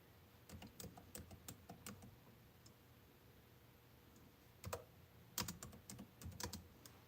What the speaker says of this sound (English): These nails make me type slow.